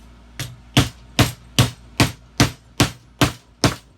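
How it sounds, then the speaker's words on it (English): A hammer strikes a loose part back onto a wooden chicken coop joint, eight sharp, evenly spaced blows ringing out close and loud with no talk. "hammer that back on"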